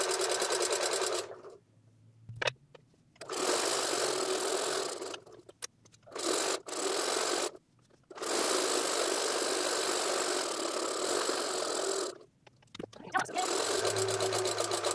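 A sewing machine stitches a taggie blanket in several loud, steady bursts separated by short pauses, close up and with no talking.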